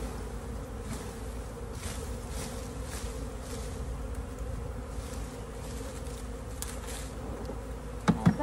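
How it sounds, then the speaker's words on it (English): Honey bees shaken into a hive box in an outdoor bee yard fill the air with a steady, dense buzzing that holds evenly throughout, with a couple of brief knocks at the very end. "Now that is a lot of bees."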